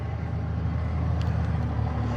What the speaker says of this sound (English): let's wait for the truck to go by